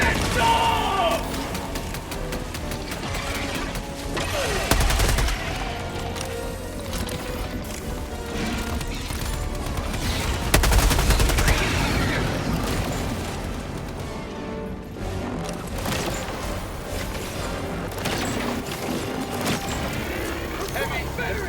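Gunfire in Helldivers 2 against Terminids, continuous bursts and booms throughout a chaotic firefight mixed with game effects and shouted voices.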